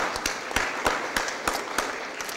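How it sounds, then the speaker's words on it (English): Applause from an audience at a city Board of Aldermen meeting in St. Louis, a steady wash of moderate clapping with a few sharper claps standing out, lasting a couple of seconds with no talking. "Let's give a round of applause to them"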